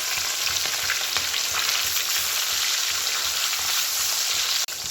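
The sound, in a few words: small rohu fish (pona) frying in a pan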